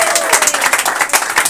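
A live audience gives a short burst of applause for a musician performing in Holland. The close, loud clapping has a brisk, uneven rhythm and fades within a second and a half.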